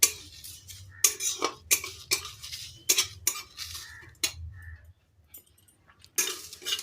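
Whole masala spices are fried on a low flame and stirred in a pan for a bhindi masala: a metal spatula scrapes and knocks against the pan in quick, irregular strokes, close and clear, with short pauses between bursts.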